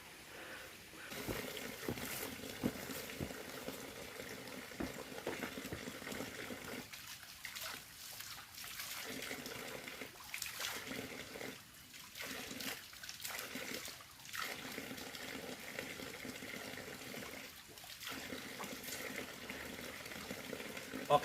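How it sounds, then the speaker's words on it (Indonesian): Water trickles steadily from a spout at a clear mountain spring along a hiking trail, a continuous soft splashing stream heard close up with no talking. "Terdapat juga pancoran nih."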